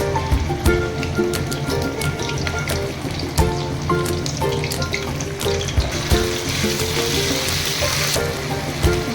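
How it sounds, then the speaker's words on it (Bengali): Ginger garlic paste hits hot oil in a wok and fries with a loud, steady crackling sizzle, dense with sharp spitting pops that continue unbroken throughout. "তো তেলটা গরম হয়ে গেছে, এখন দিয়ে দেব আদা রসুনের পেস্ট।"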